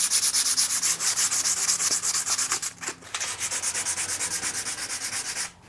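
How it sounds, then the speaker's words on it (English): Sandpaper rubbing the corners of a wooden floating shelf in steady back-and-forth strokes, loud and close, with a brief pause near the end before the rhythmic scraping resumes. "even just sanding the corners like that helped a bunch"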